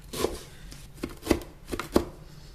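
A knife chopping fresh parsley on a cutting board for meatballs in a home kitchen, about five crisp, close knocks at an uneven pace.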